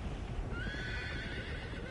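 A horse whinnies once in Uncharted 3, a rising, drawn-out neigh over steady rumbling background noise, with faint hoof clops.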